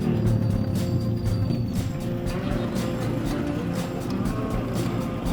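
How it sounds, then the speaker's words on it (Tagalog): Continuous road traffic on a busy Laguna road near a bridge: engines hum and vehicles pass steadily close by, with a constant low rumble throughout. "Traffic."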